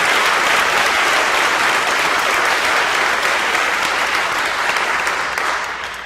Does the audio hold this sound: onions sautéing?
no